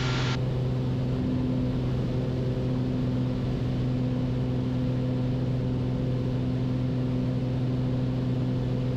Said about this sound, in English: Get the noise of the propeller.